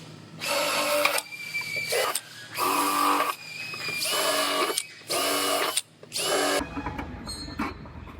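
Power drill cutting holes through scrap metal backer plates for plug welding a damaged car B-pillar, six loud whining bursts with short gaps, then a brief clatter.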